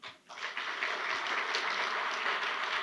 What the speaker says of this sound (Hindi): एक ताली मारना कविंदर जी के लिए, एक ताली मारिए